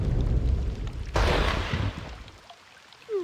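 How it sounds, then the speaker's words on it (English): A lightning bolt striking a park lands as a sudden loud crack and broad crash rolling out over a rumbling storm backdrop, then fading away over a couple of seconds. "It was a bolt of lightning that hit the park."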